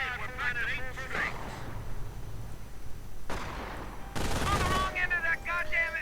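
Machine gun fire from an MG squad in a real-time strategy video game, heard as bursts of rapid shots and a sharp blast in the battle din, under a commentator's talk.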